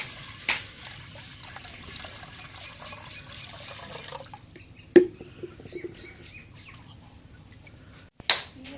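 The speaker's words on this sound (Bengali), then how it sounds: "এখন পানি দিই কড়াইয়ের মধ্যে" Water pours into a wok over masoor (red) lentils with a steady splashing rush for a few seconds, then fades to quiet drips and a couple of sharp knocks.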